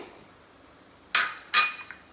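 Ginger, chillies and garlic dropped into a mixer jar for grinding, two sharp close clinks about half a second apart after near silence, with a faint trailing knock.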